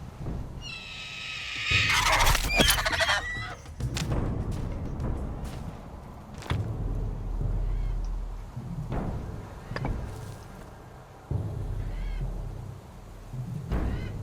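A bird in the survival game The Survival Fountain of Youth gives a loud, harsh honking call near the start, followed by scattered clicks, thumps and rustling game sounds with no talking.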